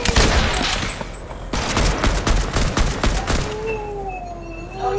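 Rapid bursts of gunfire crack out in a dense volley in a Fortnite squads match, loud and close, then fade into a softer whooshing and whistling tone.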